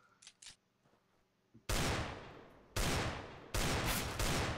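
Gunfire in Counter-Strike: Global Offensive, several loud, sharp bursts of rapid shots that cut in abruptly after a few faint clicks and small in-game sounds.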